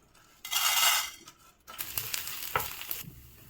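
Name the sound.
dal being roasted and stirred in a pan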